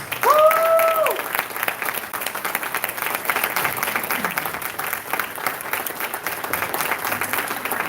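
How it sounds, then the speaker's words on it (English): A crowd applauds steadily for several seconds at a State Assembly District 64 candidate forum, dense clapping filling the room at a constant level, with a brief electronic tone at the start. "How about another round of applause for the candidates?"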